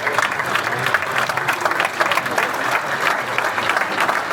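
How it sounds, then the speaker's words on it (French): An audience at a football gathering in Marseille breaks into sustained applause, a dense, even patter of many hands clapping at once, loud and close, with no speech over it. "On peut applaudir."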